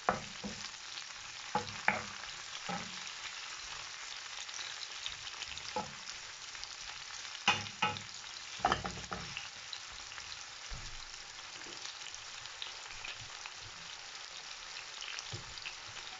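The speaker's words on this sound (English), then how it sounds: "I'm gonna cover it and leave it to saute for like 2 minutes" Ackee and saltfish sauté in a pan with a soft, continuous sizzle. Occasional close clinks and scrapes from stirring sit on top, louder early on and then settling into a quieter fry.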